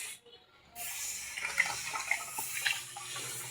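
Tap water runs steadily into a sink at close range, a continuous broadband rush that starts after a brief quiet moment and carries on with small splashy fluctuations.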